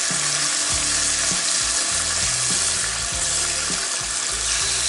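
Strips of meat sizzling and rendering fat in a cast-iron Dutch oven, a loud, steady frying crackle with occasional stirring scrapes, close up and without speech.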